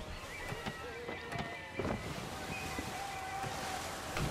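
Ship under full sail in the Assassin's Creed 3 video game: a steady wash of wind and waves with creaking tones and occasional thumps, continuous and moderately quiet throughout.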